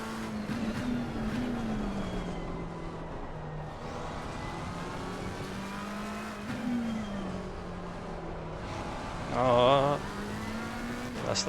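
A McLaren 720S GT3 in Assetto Corsa Competizione runs through corners with a steady engine note that rises and falls. Tires squeal briefly near the end as the car slides, and a voice talks over it at times.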